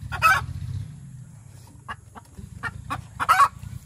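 Rhode Island Red breeder chickens cluck in a few short, nearby bursts over a low, steady rumble, with brief calls scattered through the span.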